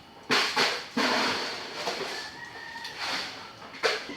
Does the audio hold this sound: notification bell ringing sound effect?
no